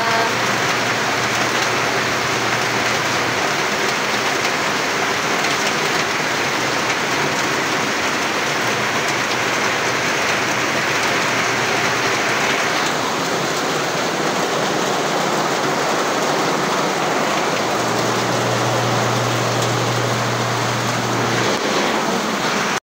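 Heavy rain with no wind pours down steadily and densely, a loud continuous hiss of water on surfaces with no letup.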